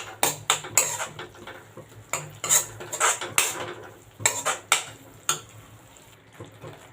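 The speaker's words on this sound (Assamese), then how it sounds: "তেনেকৈ লাৰি দিওঁ।" A spoon stirring food in a cooking pot, with irregular metallic clinks and scrapes in quick bursts, close and fairly loud, with short pauses between strokes.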